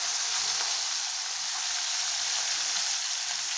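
Small morola fish frying in oil in a pan, a steady dense hiss and crackle that stays even and continuous throughout, close up and with no talk.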